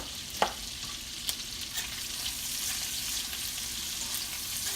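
Greens fry in a skillet with a constant crackling sizzle, broken by a few sharp stirring taps and clicks near the start, steady and close.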